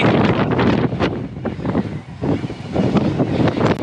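Strong wind buffets the microphone while cycling a muddy uphill trail on the Camino de Santiago pilgrimage route, a loud continuous roar with gusty surges and no talking.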